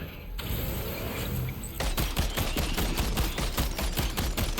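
A vehicle-mounted gun in a video game fires a rapid, evenly spaced burst of loud shots after a mechanical whir, the automatic fire continuing steadily to the end.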